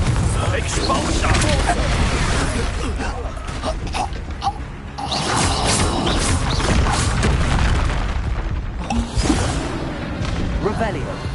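Spell explosions cast in the Hogwarts Legacy video game, a dense run of loud booms and crashes layered over game noise, with speech present throughout.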